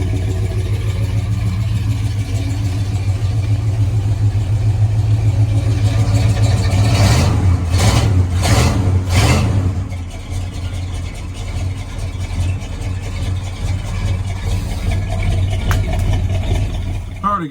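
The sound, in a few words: 1977 Ford F150 4x4 engine running and revving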